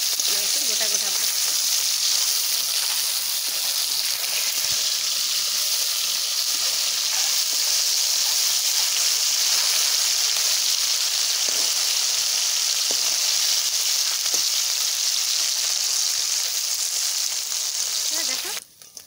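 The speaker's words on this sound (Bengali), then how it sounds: "দেখো এরকম করে লাল লাল করে ভেজে নিচ্ছি" Whole fish frying in hot oil in a home kitchen pan, a loud, dense, continuous sizzle and hiss with faint crackles that runs steadily for the whole stretch and cuts off abruptly at the end.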